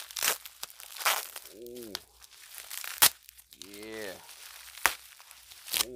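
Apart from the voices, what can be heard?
tearing open packaging tape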